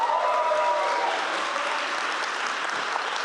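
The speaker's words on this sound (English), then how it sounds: "Let's hear once more applause, please" Thick, continuous applause fills an awards ceremony hall for indie game developers, a large audience clapping steadily at an even level with no voices standing out.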